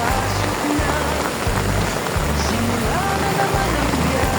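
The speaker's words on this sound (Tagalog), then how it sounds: "Ulan." Steady rain patters on a surface outdoors near a market, a dense continuous hiss with periodic low rumbling underneath and some talk mixed in.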